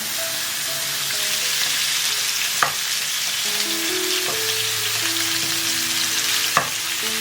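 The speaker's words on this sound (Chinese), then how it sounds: "然后再放油煎。" Pork bones fry in oil in a flat pan, giving a loud, steady sizzle close up, with a couple of sharp clicks and soft background music underneath.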